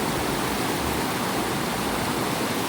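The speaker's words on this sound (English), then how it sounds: "you got this tumultuous water coming down, rippling against the rocks with a thunderous force." Loud, steady rushing of tumultuous water pouring down and crashing against rocks at a campground stream, a dense continuous roar heard up close with no voices.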